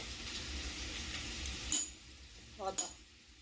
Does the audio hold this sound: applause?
no